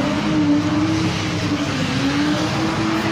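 Car engines rev hard and drone continuously at a rainy Oakland street sideshow, with loud sustained roaring and tire noise close by and no speech.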